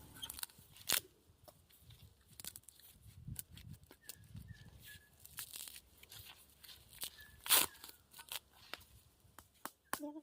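Outer husk peeled and torn off a fresh green coconut in a kitchen, a scattered series of dry ripping, snapping and crinkling sounds, close and fairly quiet, with no talking.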